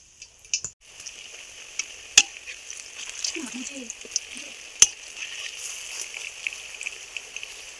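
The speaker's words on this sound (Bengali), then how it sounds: "এইভাবে আমি সমস্ত কোপ্তাগুলো ভেজে নেব" Taro flower koftas fry quietly in oil, a faint, thin sizzle broken by a few sharp clicks and soft taps from a utensil against the pan.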